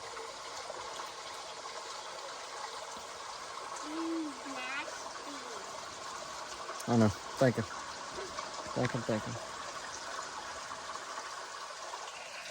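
Steady rushing water flows continuously through a culvert, with a person talking over it partway through.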